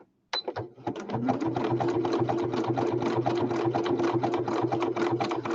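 A sewing machine stitches a small zigzag around fabric edges, starting after a brief pause and then running in a steady, rapid, close mechanical rhythm.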